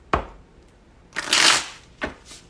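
A tarot deck is shuffled close up: a sharp riffle snap, then a longer rushing cascade of cards, then another quick snap, loud and alone.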